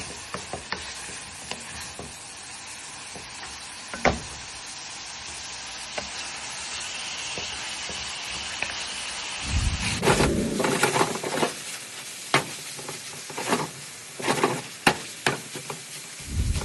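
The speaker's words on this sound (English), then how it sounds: "I went ahead and added that garlic, that rough chopped garlic, onions, green and red peppers, and we're going to let that cook down" Rough-chopped garlic, onions and green and red peppers sizzle in a pan for a lasagna, a steady hiss that turns louder and busier midway as the vegetables are stirred, with scattered scraping clicks of a utensil.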